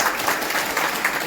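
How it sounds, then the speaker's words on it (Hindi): Applause from an audience welcoming teachers at a college teachers' honour ceremony, a steady dense wash of clapping filling the whole short stretch with no voices over it. "तो उसके लिए, इस रौनक के लिए सभी गुरुजनों के लिए तालियों से स्वागत करें।"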